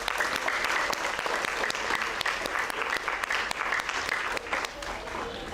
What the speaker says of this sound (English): let's give our amazing organizers a big round of applause